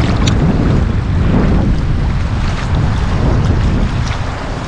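Steady motor drone and rushing wind of a small boat running across Raystown Lake, loud and continuous with buffeting air against the microphone and splashing water beneath, no talk.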